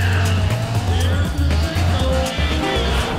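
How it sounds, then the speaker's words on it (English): A Honda Del Sol in the racing game Need for Speed ProStreet spins its rear tires in a loud, sustained burnout, the engine droning and revving in pulses beneath a continuous close squeal. "it's pulling a burnout from the rear tires"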